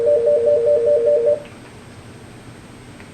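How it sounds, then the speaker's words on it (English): An Aastra 6730i/6731i IP phone plays a ringtone sample as the choices are cycled: a loud, close warbling two-tone trill pulsing steadily for about a second and a half, then cut off into quiet hum, with a brief tone returning at the end. "I'll press the down arrow to cycle through the ringtone choices"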